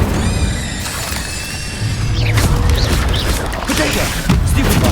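Incendio fire spell in Hogwarts Legacy, a loud roaring burst with crackling, shattering impacts and a sustained rumbling blast that swells midway, surrounded by busy combat effects.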